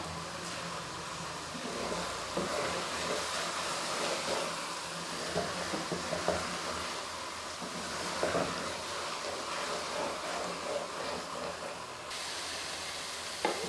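Carrot barfi mixture roasting in ghee in a pan, stirred with a spoon: a steady soft sizzle and hiss with faint scraping strokes throughout, moderately close and without talk.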